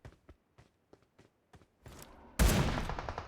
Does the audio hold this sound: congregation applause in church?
no